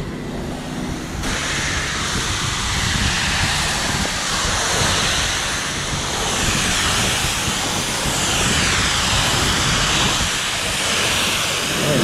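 Self-service spray car wash: a high-pressure wand spraying soap onto a very dirty car, a loud, continuous hissing roar of spray that stays steady from start to finish with no talking.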